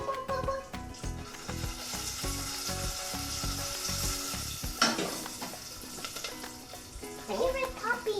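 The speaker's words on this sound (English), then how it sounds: "I hear it popping" Mochi popcorn crackling and sizzling in a hot pan on a stove, a steady frying hiss with scattered pops and the occasional scrape of stirring, fairly close.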